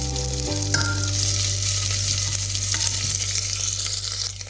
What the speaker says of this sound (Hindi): अब इसमें हम ग्रेट किया हुआ अदरक डालेंगे।